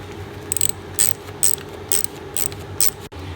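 A ratchet loosens a fuel pipe fitting on a 1974 Bolens HT20 garden tractor, giving six short, close bursts of rapid clicking at steady intervals, followed by a faint knock at the end.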